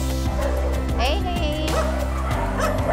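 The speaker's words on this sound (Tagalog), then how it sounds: "naririnig ninyo ang ingay dahil po yan napakaraming aso po dito ngayon" Many dogs bark and yip at an animal rescue compound, a loud overlapping chorus with whimpers, while a person shouts over them close by.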